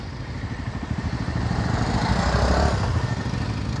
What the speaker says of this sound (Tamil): ப்ரோ வண்டி வருது, வரமா விடுங்க.